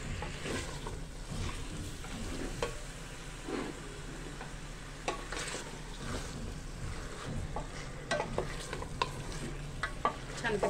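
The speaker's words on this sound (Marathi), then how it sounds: "छानपैकी असं आता कांद्यामध्ये आपल्याला हे मटण छानपैकी असं परतवून घ्यायचंय" Mutton sautéed with onions in a pan for a Satara-style mutton thali, a steady sizzle broken by scraping stirs and clinks of a spoon against the pan, close up, without talk.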